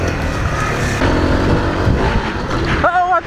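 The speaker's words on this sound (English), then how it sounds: "Super excited, I got a new bike. It's a Grom." A Honda Grom motorcycle rides along a highway with steady, loud engine and wind rumble throughout, and a brief rising whine near the end.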